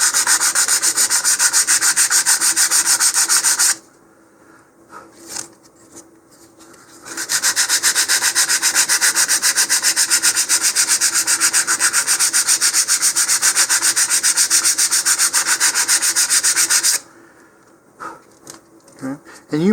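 Wooden parts of an Estes Der Red Max model rocket are sanded with 100 grit sandpaper to remove excess glue, giving loud rapid rasping strokes in two long bursts separated by a short quiet pause, with no talking.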